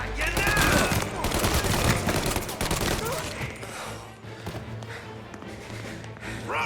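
Mafia: Definitive Edition shootout with a rapid clatter of gunshots and bursts, heaviest at first and then thinning out over a low droning score.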